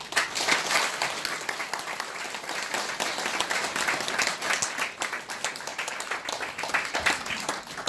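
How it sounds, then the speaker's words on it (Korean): An audience at a Korean public political lecture claps warmly, a dense, sustained wash of applause holding steady and close for several seconds with no speech over it. "여러분 가슴 한복판에서 우러나오는 뜨거운 박수를 보내주십시오"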